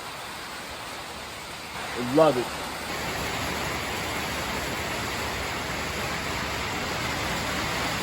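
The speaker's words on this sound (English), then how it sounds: "That is the sound of rain." Heavy outdoor rain pouring steadily on a warm day, a dense continuous hiss that swells slightly after the first few seconds and holds loud throughout, with a brief spoken remark near the start.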